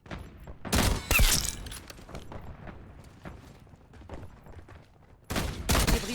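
Sniper fire in Call of Duty Warzone, a couple of loud sharp cracks early on and another pair near the end, with quieter game ambience in between.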